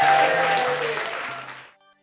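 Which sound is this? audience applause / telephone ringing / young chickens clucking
audience applause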